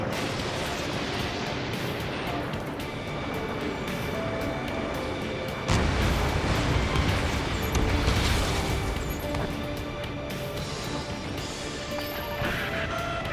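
Enemy gunfire and impacts in the jet combat game Ace Combat 7, a dense continuous roar of engine noise and crashing hits that swells into heavier bursts midway, with no voices over it.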